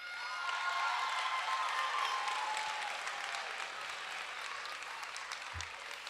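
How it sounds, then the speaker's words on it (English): Students from schools across the city cheer and applaud at a large announcement event, a loud, steady wash of clapping and shouting filling a big hall, holding strong for several seconds before easing slightly. "give us a big, loud cheer to show that you're here"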